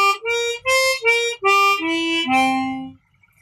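Chromatic harmonica sounding a C dominant seventh arpeggio, seven clear sustained reedy notes that climb and then step back down with short breaks between them, played alone and close up until it ends in silence.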